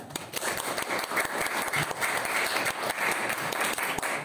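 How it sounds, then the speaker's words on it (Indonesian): Students in an Indonesian school classroom clap together, a busy patter of many hands at moderate loudness that continues steadily without talk. "Oke, bagus ya. Tepuk tangan ya."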